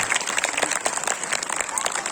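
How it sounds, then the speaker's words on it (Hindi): Applause from the audience at a school Republic Day celebration, a steady patter of many hands filling the room for about two seconds, with chatter mixed in. "अरे तालियों में क्या कंजूसी है यार।"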